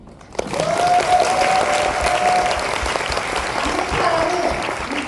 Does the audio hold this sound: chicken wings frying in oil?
no